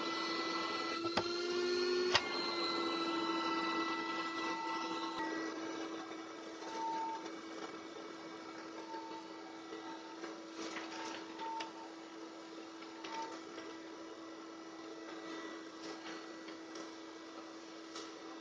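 A vacuum cleaner pulls air through a homemade cyclone dust separator on a wide corrugated hose, struggling to lift screws. Its steady, fairly quiet motor whine runs throughout, with a few sharp clicks and rattles of debris near the start.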